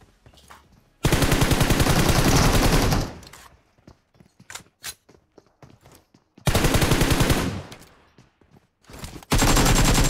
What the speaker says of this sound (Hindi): यहाँ पे बहुत ज़्यादा गन फाइट हो रही थी